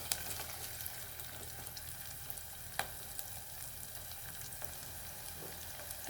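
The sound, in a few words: chopped green chilies frying in a pan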